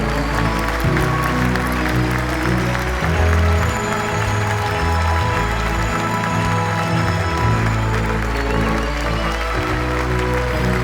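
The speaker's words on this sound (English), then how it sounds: "one last round of applause for our first place team from UBC" Loud, sustained applause from a large audience at an engineering competition awards ceremony, celebrating the first-place team; dense clapping fills the whole stretch with a faint cheer or murmur mixed in.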